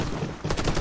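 Gunfire in the online shooter Warface during a 2v2 match, a short close burst of rapid shots that starts partway through and overlaps a dense game soundscape.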